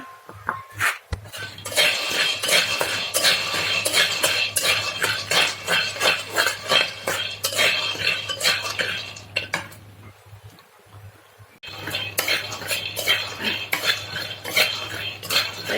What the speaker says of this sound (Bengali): শুকনো মরিচ ভেজে আমি বাদামটা ভাজবো খালি খালি তেল দেব না